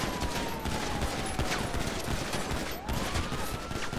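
Rapid, continuous gunfire during a video game police shootout after a chase, a dense crackling fusillade that keeps going under faint distant sirens.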